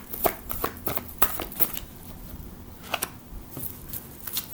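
Tarot cards shuffled by hand at close range, giving a run of quick crisp riffles and soft flicks in irregular bursts, alone without talk.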